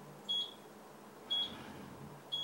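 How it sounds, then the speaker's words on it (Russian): A kitchen timer sounds three short, high electronic beeps, evenly spaced about a second apart over a faint room hum, with no talking. "Итак, вот сработал таймер."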